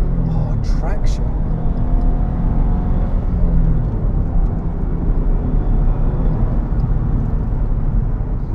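A Subaru Impreza WRX STI Type R Version 3 engine drones loudly and steadily under acceleration, heard from inside the car with road noise and a person talking over it.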